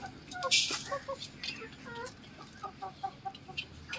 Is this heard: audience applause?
no